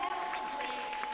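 Dense, steady applause from a large crowd fills the whole second at a moderate distance, with a faint voice underneath, as serving and retired military members stand to be honored at a Dayton Sharks sports game.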